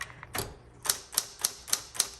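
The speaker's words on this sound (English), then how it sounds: "This is typing well, but this is going to be a budget typewriter because I don't like how it feels." Keys struck on a 1960s Coronet Automatic typewriter, with one duller thump and then five crisp, evenly spaced clacks close up and moderately loud.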